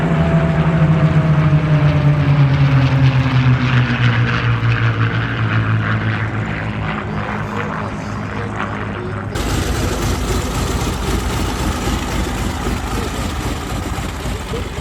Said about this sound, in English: now they're sticking back with the 3-ship heritage flight with the Hawker Hurricane, the Supermarine Spitfire, and P-51D Mustang.